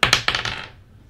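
A 20-sided die tumbles across a hard surface: a quick clatter of four or five sharp bouncing clicks that fade out within about a second, close and alone.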